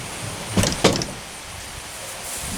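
A van's door is pulled open and halted by a newly fitted door stop partway through its travel: two sharp knocks close together, a short rattling slide, then a firm clunk, near and fairly loud, with no voices.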